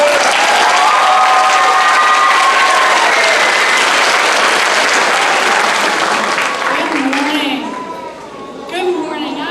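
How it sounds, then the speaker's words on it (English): An audience at a middle school event gives loud, sustained applause with some cheering and children's voices, the clapping fading toward the end. "another round of applause"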